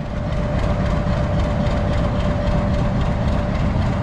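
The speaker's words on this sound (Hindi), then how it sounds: "PHA 20 लीड कर रहा है जी 11 अप हज़ारा एक्सप्रेस को 8315।" The 11 Up Hazara Express, led by PHA-20 locomotive 8315, crosses close by on a Pakistan rail line: a loud, steady rumbling roar with rhythmic wheel clatter and a sustained engine drone throughout.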